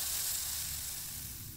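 Rust-removal spray from an aerosol can in the video game Grim Tales, a steady airy hiss that holds evenly through the clip and fades only slightly at the end, with no talking over it.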